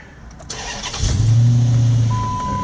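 A 2008-or-later Chrysler/Dodge car such as a Charger, Challenger or 300 cranks and starts after a replacement of its electric gas pedal, giving a short starter whir that catches into a loud, close engine rising to a high idle.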